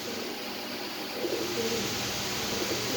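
American Lark pigeons in a loft, a large breeding pair: soft, low cooing murmurs under a steady, hissy background, faint and intermittent.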